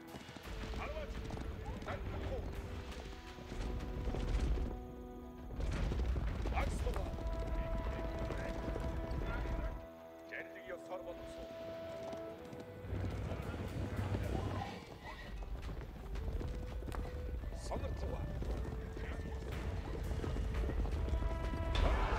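Mounted Mongol horse archers gallop in Age of Empires 4. The steady rumble of many hoofbeats runs continuously under a dense, loud battle soundscape and music.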